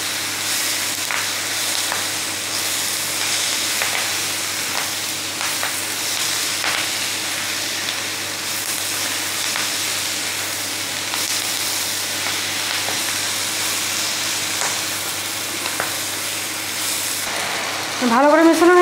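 Moringa greens cook in a pan with a constant loud hiss and sizzle while being stirred and mixed, the spoon making faint intermittent scrapes, ending with a brief rising squeak.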